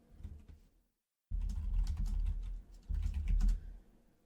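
Rapid keystrokes on a computer keyboard come in two dense bursts after a short silence, close and crisp with quick irregular clicks and no talk.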